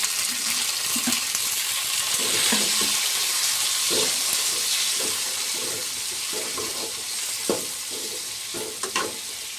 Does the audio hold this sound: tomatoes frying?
yes